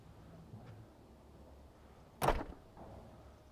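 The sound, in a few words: Audi Q7 power tailgate closing by itself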